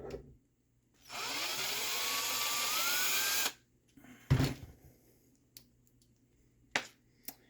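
On an RC car axle, a small power driver whirs for about two seconds to back out a bolt, followed by scattered small clicks and taps of the bolt and nut coming free, close and quiet otherwise.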